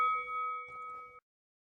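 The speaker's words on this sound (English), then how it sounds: "this bell's been rung and this match is underway" A single wrestling ring bell strikes at the opening of a world heavyweight championship match, a clear metallic ding with a sustained ringing tone that fades over about a second, with faint crowd noise beneath.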